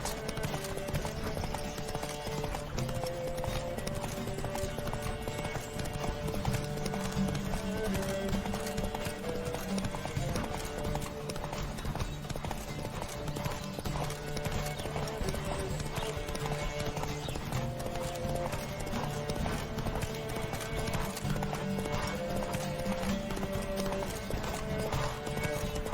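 Horses gallop in a Witcher 3 race, a steady rhythmic clip-clop of hooves running without pause alongside a game music bed, with an occasional whinny and brief voices.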